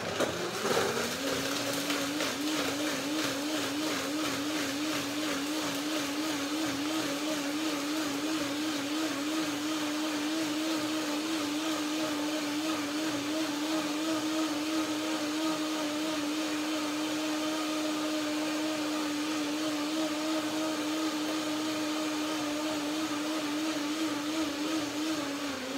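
Blender whirring through cashews and dates, a steady high motor whine that spins up at the start then holds constant for a long stretch, close and moderately loud, no talking.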